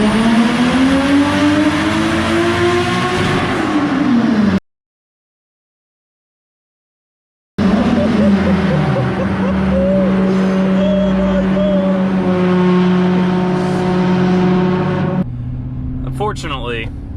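A 1JZ-swapped BMW E36 revving hard while being tuned; the engine note climbs and falls in loud, close sweeps, cuts out for a few seconds of silence, then roars back with sustained revving.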